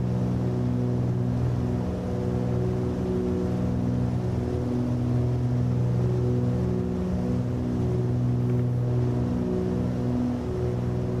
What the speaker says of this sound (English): The engines are fantastic on this airplane. They're like nice growl to them and everything.